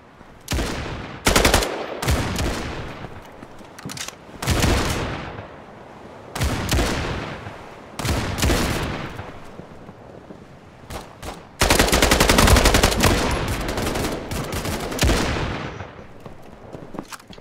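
Shotgun fire in the shooter game Battalion 1944 comes as repeated loud, close blasts spaced a second or two apart, each with a booming tail, plus one longer stretch of sustained heavy firing, with no talk.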